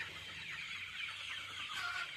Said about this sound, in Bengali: এই হচ্ছে মুরগির পরিস্থিতি